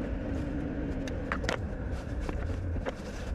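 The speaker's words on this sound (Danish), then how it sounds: "Så jeg skal lige bakke hele vejen op." A bus reversing into a parking spot, its engine a steady, fairly close rumble with a few faint clicks and knocks over it and no talking.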